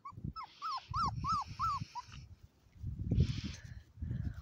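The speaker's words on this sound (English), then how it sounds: "it's just cute little puppies" Puppies whimpering and yipping outdoors in a series of short, high, rising cries, then a pause and more whines, with low rustling and handling noise underneath.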